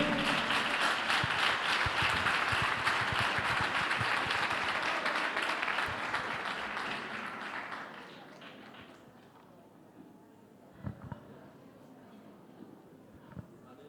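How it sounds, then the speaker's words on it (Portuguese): Congregation applause at an evening church service: dense, sustained clapping from a crowd that gradually dies down, leaving a few scattered claps near the end. "Vamos aplaudir ao Senhor"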